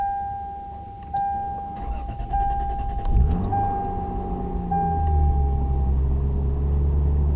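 A 1999 Lexus GS300 with a turbocharged 2JZ-GE engine cranks briefly, fires and settles into a steady, fairly high idle, heard close with a faint whine above the engine.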